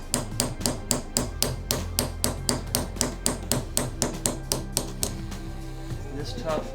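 Steady, evenly spaced light hammer taps on a roll pin punch driving a pin during a Beretta U22 Neos pistol teardown, about fifteen close, crisp strikes that stop near the end.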